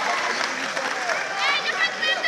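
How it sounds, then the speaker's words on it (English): A crowd at a Suriname versus Saint Lucia FIBA AmeriCup pre-qualifier basketball game gives player Beaverwick a steady round of applause and cheering, dense and sustained, while a commentator talks over it. "gets an ovation from the crowd, and boy, does he deserve it"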